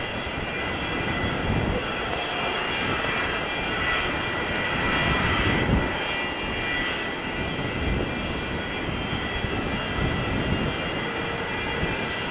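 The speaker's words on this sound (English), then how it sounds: "This is a Boeing 787 with an almost vertical steep takeoff." A Boeing 787 jet climbing steeply on takeoff, a loud continuous engine roar with broad rumble and high whine, steady and unbroken throughout, no voices.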